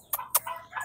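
Young chicks cluck and chirp in two sharp bursts followed by softer calls, close by and fairly loud, with no speech over them.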